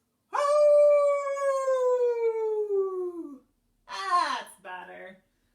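A person imitates a wolf howl with one long, loud, sustained tone that slowly falls in pitch, followed by a short pause and a brief burst of further vocal sound.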